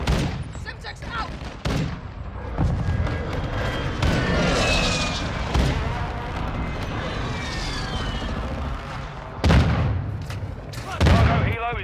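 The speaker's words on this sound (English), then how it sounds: "Commencing airstrike in the AO." Call of Duty: Modern Warfare II airstrike: dense, loud battle din with rolling booms, sweeping aircraft engine tones and bursts of gunfire, punctuated by sharper impacts near the end.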